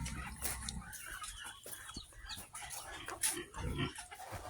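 Pigs grunt and squeal at feeding time on a rural farm in Baybay, Leyte, mixed with clucking chickens and farmyard clatter, moderately close and fairly busy throughout.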